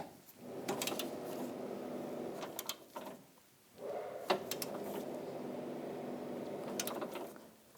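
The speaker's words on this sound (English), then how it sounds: "Now we're going to torque these bolts to 74 foot-pounds." Torque wrench tightening bumper bolts on a 2014-2018 GMC Sierra to spec, two close bursts of ratcheting clicks separated by a brief pause, with a few sharp metallic knocks.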